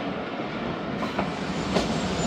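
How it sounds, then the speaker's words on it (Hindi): A train pulls into Kot Lakhpat station with a loud, steady rumble and faint rhythmic rail clatter close by, no voices over it. "8:42 पर दोस्तों ट्रेन पहुंची हमारी कोट लखपत।"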